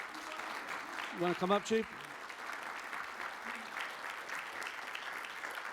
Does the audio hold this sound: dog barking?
no